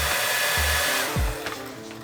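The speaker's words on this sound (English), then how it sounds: "So you take your hair dryer and you wanna heat up the foot pad for about 2 minutes." A Remington Model 390 hair dryer blows steadily up close while heating the foot pad of a Onewheel board, a constant loud whoosh with a brief mechanical click partway through.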